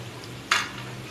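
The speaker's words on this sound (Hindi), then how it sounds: "एक पैन में मैंने ऑयल गरम कर लिया है और फ्राइज़ को मैं इसमें फ्राई कर रही हूँ" Potato fries coated for pakora frying in hot oil in a pan, a faint steady sizzle with one brief brighter crackle or stir about halfway through, heard alone without talk.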